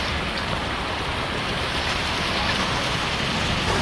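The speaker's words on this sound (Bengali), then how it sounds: "বৃষ্টি এসে পড়ছে, বৃষ্টি নেমে গেছে, আমরা ভিজে গেলাম" Steady, dense rain pours outdoors in a village, a loud continuous hiss of drops hitting surfaces with no pauses or voices.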